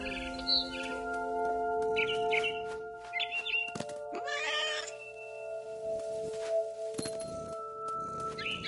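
Meows from a cat in a video game, heard as several short cries spread across the stretch over steady tonal background music and other game sounds, with faint chirps suggesting a bird.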